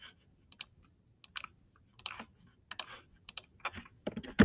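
Keys tapped on a computer keyboard in scattered bursts of close, crisp clicks with short pauses between, growing a little louder and busier toward the end, with no talking.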